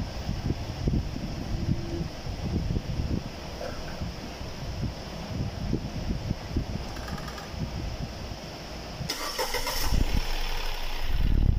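A 2021 Mitsubishi Attrage's engine cranks and catches near the end, a brief whirring churn rising into a steady idle, after a long stretch of low rumbling, wind-like background noise.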